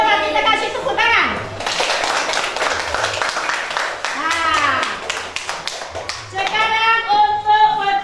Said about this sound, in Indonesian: Coba kita kasih tepuk tangan